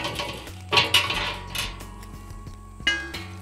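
Squash is grated into a pan while cooking a Latin-inspired smoked turkey, giving metallic scraping with sharp clinks and knocks, a louder clatter near the start and another near the end, with no talk.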